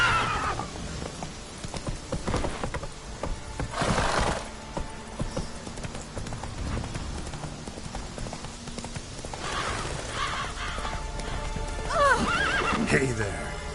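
Roach, the horse in The Witcher 3, gives a clear whinny amid steady clip-clopping hooves, with game ambience and a voice speaking over parts of it.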